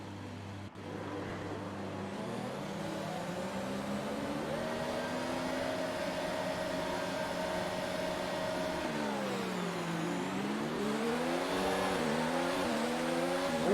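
An F1 race car in the F1 2019 video game revs and whines steadily as its wheels spin, the engine note rising and dipping in pitch over a continuous, moderately loud drone.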